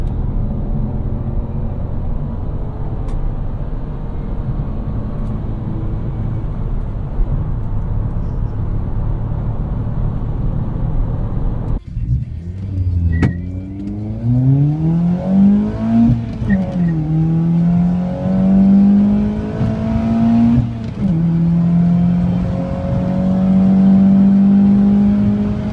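Ford Fiesta engines rev, a naturally aspirated unit against a 1-litre 125 hp EcoBoost turbo, first a steady idle hum, then after a sharp break several rising and falling revs climbing to a loud sustained whine.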